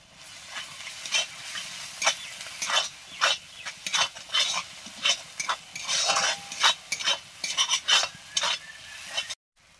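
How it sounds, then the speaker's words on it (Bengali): Cumin and coriander spice paste sautéing with a little water in a pan, with sizzling and frying under repeated scraping and stirring strokes, a steady close rhythm of clatters against the pan before it cuts off abruptly. "অল্প জল দিয়ে মশলাটা কষে নিচ্ছি"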